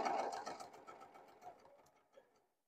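A sewing machine stitches quilt fabric with a short backstitch, a close whirring run that slows and tapers off into silence within a few seconds.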